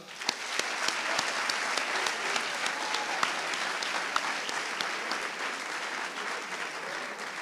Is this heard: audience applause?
yes